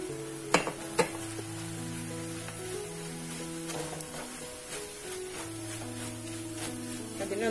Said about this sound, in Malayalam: ഇനി അടുത്തതായിട്ട് ഞാനിതിൽ മുളക് പൊടിയാണ് ഇടാൻ പോണത്.